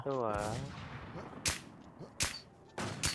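Gunshots ring out in the video game Runner, three sharp, loud cracks spaced about a second apart, following a brief voice-like tone at the start.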